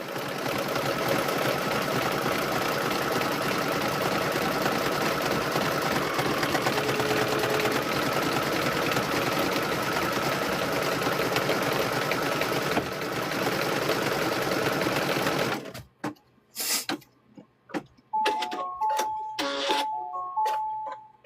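A home embroidery sewing machine stitches a satin stitch on quilt squares with a steady, fast mechanical whir. It runs continuously for most of the span, then breaks into short stop-start bursts near the end.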